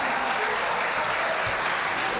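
Audience applause breaks out during a political speech, a dense, steady wash of many hands clapping that fills the whole stretch at even loudness.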